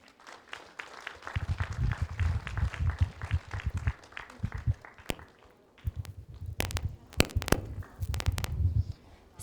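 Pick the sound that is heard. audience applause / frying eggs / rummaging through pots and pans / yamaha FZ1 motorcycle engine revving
audience applause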